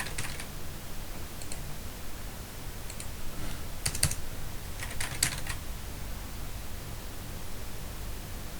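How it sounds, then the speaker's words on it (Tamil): Keys clatter on a computer keyboard while a document is typed in Google Docs, in a few short bursts of clicks against a steady hiss of background noise, no voices. "இப்போ இந்த மாதிரி டைப் பண்ணி வச்சுக்கலாம்."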